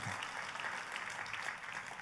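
Faint, brief applause from a church congregation, a soft wash of distant clapping lasting about two seconds.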